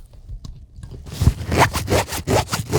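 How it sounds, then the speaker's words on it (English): Dry, matte fabric of an EVERGOODS CPL daily-carry bag rubbed by hand, a close, steady series of brisk scratchy swishes in quick rhythmic strokes following a short quiet start. "the fabric has a matte to it. Like, listen to this."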